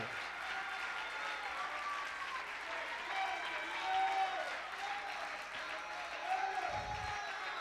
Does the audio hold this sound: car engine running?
no